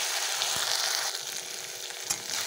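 Ground cumin, ginger and garlic paste frying in a pan for a shrimp and pumpkin dish, a dense, continuous hiss of oil with a couple of faint utensil knocks.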